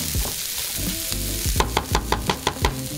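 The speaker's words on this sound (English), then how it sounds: "We'll then add our broccoli and our zucchini, and we'll cook that down for a few minutes" Mushrooms, broccoli and zucchini cook in a pan with a loud, steady sizzle. A spatula then scrapes and tosses them in quick, rhythmic strokes about twice a second.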